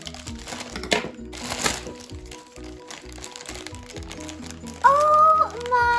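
A plastic toy bag is cut open and unwrapped, giving close crinkling and crackling of plastic with a few sharp snips, followed by a brief tonal sound near the end.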